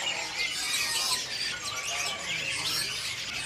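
Caged young songbirds at the Pramuka bird market, a busy chorus of high chirps, squeaks and trills overlapping continuously, close and fairly loud with no talking.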